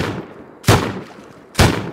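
Two sharp, loud gunshots about a second apart ring out from a raid tower in a survival video game, each a broadband crack with a short decaying tail over low background noise.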